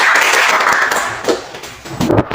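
Classroom students clapping after a group presentation, a brief cluster of scattered claps and taps with a roomy hiss, fading then picking up again near the end.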